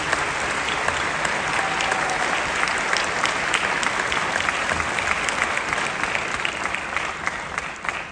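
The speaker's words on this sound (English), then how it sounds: "How about a big round of applause to the directors?" Audience at an All County 9-10 Symphonic Band concert applauding the band directors, full continuous clapping from a large crowd that stays loud and even before easing slightly at the close.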